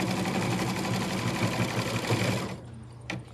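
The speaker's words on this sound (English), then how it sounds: "Now it's going to do the little eyelet so that you can actually hang this up if you wanted." A Baby Lock Altair 2 embroidery machine stitching a small eyelet, a loud rapid steady whirring hum of needle strokes that stops near the end, leaving a brief click.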